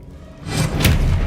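Expelliarmus spell cast in Hogwarts Legacy, a short swelling whoosh with a dull thud and a bright burst near the end, fairly loud with no talk.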